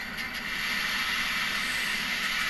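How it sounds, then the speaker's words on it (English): Model train sound decoder switching over to the automatic train brake, giving a steady, even air-like hiss with a faint low rumble underneath, held throughout. "you're going to hear the train change over to the automatic or the train brake system"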